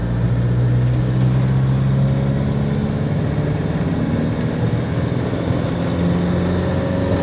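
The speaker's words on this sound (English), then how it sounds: "Full throttle acceleration." An off-road camper van under full-throttle acceleration, its engine droning loud and steady with a rising tone, heard from inside the cab with no talking.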